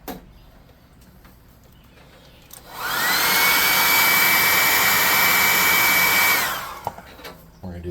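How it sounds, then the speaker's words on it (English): A hair dryer switches on and blows with a loud, steady whoosh and high whine for several seconds, then cuts off. "We're going to hit it with the hairdryer again."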